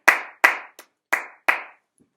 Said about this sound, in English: You can clap along too.